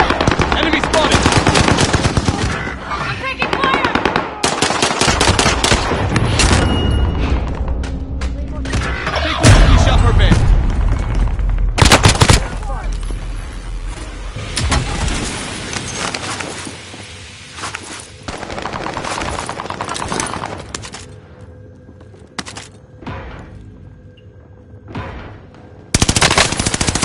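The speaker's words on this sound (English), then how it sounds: "Someone is firing on us." Sustained machine-gun bursts and gunshots in an online multiplayer shooter video game, loud and dense for most of the span with brief pauses, over in-game radio chatter and player voices.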